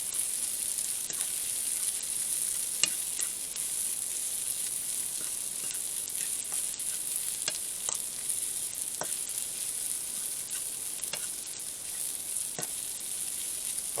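Caramelized onions and spices fry in a pan with a soft, continuous sizzle while a spoon stirs them, leaving faint scraping clicks at irregular intervals.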